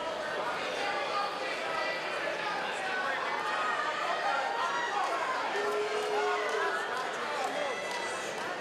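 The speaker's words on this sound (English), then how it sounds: "The fans in the crowd calling for a little more action" A wrestling crowd at a King of the Cage event murmurs and calls out steadily for more action, a broad, continuous roar of fans in an arena with voices overlapping.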